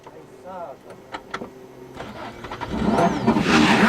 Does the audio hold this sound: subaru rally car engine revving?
yes